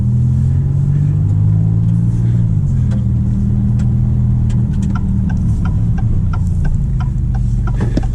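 A 2024 Maserati MC20 drives on the road, its engine giving a steady low hum and rumble that shifts pitch partway through as it runs through the gears, with no talk.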